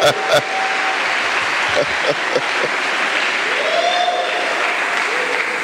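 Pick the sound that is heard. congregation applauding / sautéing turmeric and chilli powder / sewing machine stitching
congregation applauding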